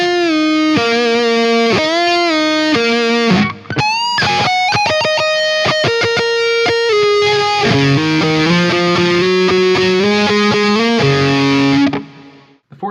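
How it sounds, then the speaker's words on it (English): Distorted electric guitar solo from a song, played in the natural minor scale with whole step bends, hammer-ons, pull-offs, unison notes and a slide up the fretboard. Loud, sustained and continuous, with a brief dip near the middle and a clean stop at the end. "The third solo section makes heavy use of the natural minor scale, more whole step bends, hammer-ons and pull-offs, unison notes, and a lick that slides its way up the fretboard"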